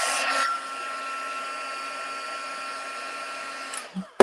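A heat gun for embossing blows in a steady, even whoosh after a short louder start, holding a constant tone for several seconds before clicking off.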